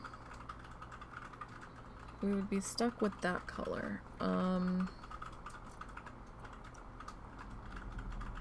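A mechanical computer keyboard clacks with rapid, faint keystrokes in the background while someone talks over it in the foreground.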